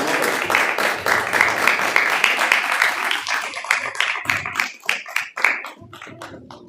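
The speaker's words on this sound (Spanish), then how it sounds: "Damos fuerte un aplauso a Hashem este día." A congregation applauds loudly at a religious gathering, dense clapping that thins out into scattered individual claps near the end.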